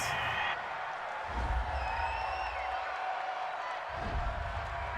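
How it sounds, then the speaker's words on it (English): A home crowd at a Raiders versus Chiefs NFL football game cheers a penalty flag, a broad stadium roar with swells of noise and whoops, heard beneath some voices. "This home crowd, they're happy with that call."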